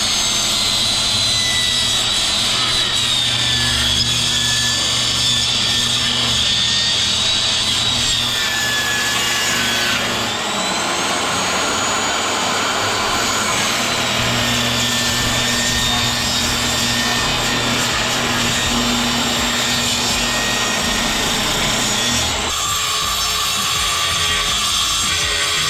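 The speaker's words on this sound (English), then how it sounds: "set up the table saw. I gotta rip these two leftover boards down to 9 inches wide" A table saw rips two leftover wooden boards down to 9 and 7 inches wide, giving a loud, steady whining roar that runs the whole time and shifts in tone near the end.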